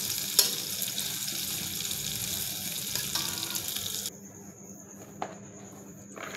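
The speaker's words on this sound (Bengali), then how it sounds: "বেগুনগুলো এভাবে কেটে নিয়েছি, একটু হালকা করে ভেজে নেব।" Cut brinjal pieces frying lightly in oil, a dense close sizzle with stirring that drops off sharply partway through, leaving a quieter hiss and a few faint knocks.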